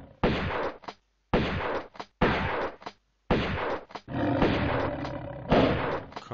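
Shotgun fire in the video game Tomb Raider: Unfinished Business, Temple of the Cat: about five loud, booming blasts in quick succession. Each has a sharp onset and a short echoing tail, separated by brief silences.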